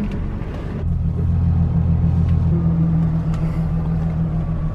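A truck driving on the road, heard from inside the cab as a loud, low, steady engine rumble and road drone that swells once it gets moving and holds without talk.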